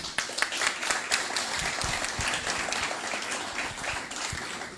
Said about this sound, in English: Can I please ask you in joining me in applauding our panelists today?